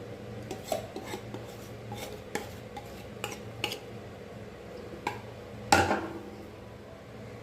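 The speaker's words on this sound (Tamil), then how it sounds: "கொஞ்சம் டேப் பண்ணி கொடுத்துக்கோங்க. இப்போ ஏர் பபிள்ஸ் இருந்தால் அது போயிடும்." Metal cake tin filled with batter tapped against a counter, giving a scattered series of faint clinks and knocks over a low steady hum, with one louder knock near the end.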